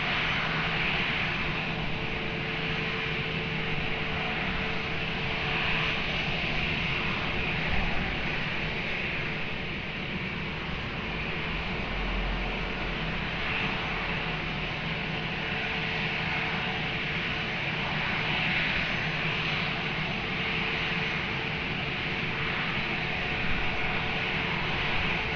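A fixed-wing airliner on approach to runway 20 at Lisbon Airport makes a steady, broad engine roar and rushing hiss that holds at fairly even loudness for the whole stretch, with no voices.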